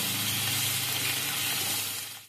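Ginger and garlic paste fries in a pan with a dense, loud, even sizzle close by that carries on alone and fades slightly at the end.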